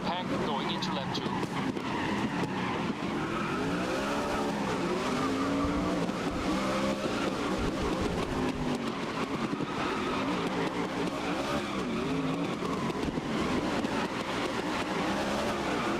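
Race cars in a video game charge through the second lap in a mid-pack pack, engines droning steadily and loudly throughout with tire noise mixed in, while a voice talks over the racing.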